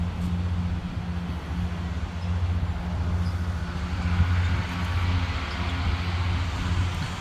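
A long tractor and a weed eater mow nearby at a veterans' war memorial in McAllen, Texas, making a steady low engine drone that swells and eases slightly as they move.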